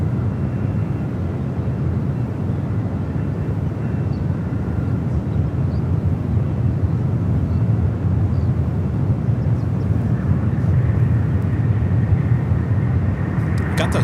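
Steady broadband roar of a Qantas jet taxiing toward the international gates at San Francisco airport, continuous and fairly loud throughout, with a faint whine building near the end.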